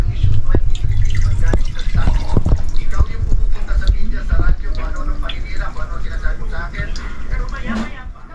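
Coconut milk pours into a cooking pot for ginataang papaya with liquid splashing and dripping sounds, close and prominent, while a person talks over it.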